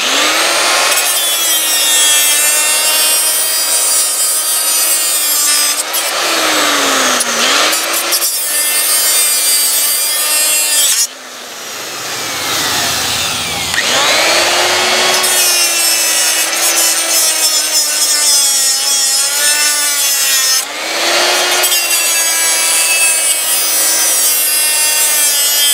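Diablo blade cutting around a seized bolt on a 1983 Johnson outboard, a loud close grinding saw that runs for many seconds with a wavering pitch, broken by a few short pauses and restarts.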